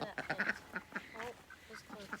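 Several ducks quack in quick, irregular bursts at close range outdoors on a farm, fairly faint overall, with no one talking over them.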